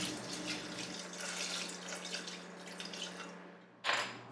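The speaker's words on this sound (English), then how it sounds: "topped my contents with water" Water is poured from a tap into a cooking pot over meat, a continuous close splashing and running hiss that ends with a brief louder splash.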